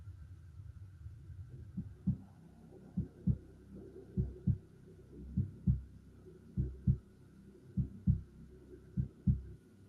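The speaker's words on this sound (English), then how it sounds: "the slow heartbeat" A slow heartbeat thuds steadily in paired low beats, about one pair every second or so, clear over a faint constant hum with no voices.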